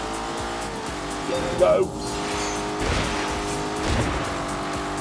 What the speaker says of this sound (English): This is the first Lamborghini to use turbocharging and the first to have an automatic gearbox.